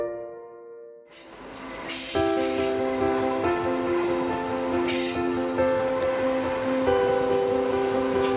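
Trains at Zurich railway station squeal loudly, with sustained metallic wheel tones over a rumbling background and sharp hiss bursts, no talking.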